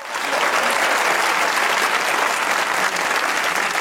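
An audience bursts into loud, dense applause that holds steady and close throughout, many hands clapping together with a faint crowd murmur underneath.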